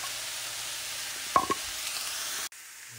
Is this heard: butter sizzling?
yes